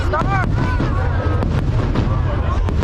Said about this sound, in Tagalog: at ingranding fireworks display